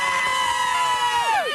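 Supporters of the Killeshin ladies' team cheer and whoop together at a parish match night, a loud, sustained crowd roar with high shouts and rising whistles near the end.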